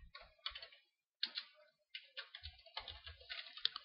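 Bursts of quick, close clicks from a computer keyboard, typed in short runs separated by brief pauses, with no talking.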